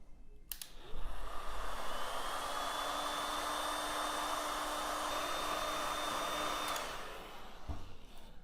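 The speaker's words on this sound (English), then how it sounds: "You can then use the heat gun to seal." A heat gun blows a steady rush of hot air onto heat shrink sealing a 360 neon power cable end, starting with a click, holding an even whoosh for several seconds, then cutting off with another click.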